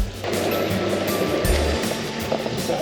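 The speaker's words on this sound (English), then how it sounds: "Little waterfall." A small waterfall in the town of Lahr in the Black Forest makes a steady, close rush of splashing water throughout, with no voices.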